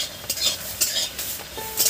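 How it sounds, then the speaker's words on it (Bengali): Peanuts dry-roasting in a pan with no oil, salt or sand, stirred steadily so the nuts scrape and rattle against the metal in repeated strokes, close and fairly loud with no talking. "এটা বাদাম ভাজা, বিনা তেলে, বিনা নুনে, বিনা বালিতে"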